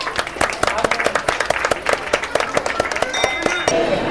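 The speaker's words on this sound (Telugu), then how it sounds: "చప్పట్లతో" Audience applause at a Sri Vasavi Kanyakaparameswari Mata Jayanti celebration, a steady run of sharp claps from a crowd, fairly close and loud, with a few faint tonal sounds near the end.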